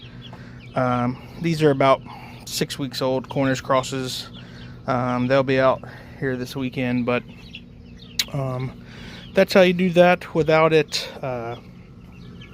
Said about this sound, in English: This is 25 baby chickens and 3.